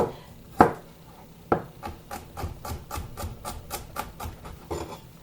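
A knife chops fresh garlic, celery and pepper on a board for sloppy joes, a couple of heavy first strikes then a quick even run of close, crisp taps.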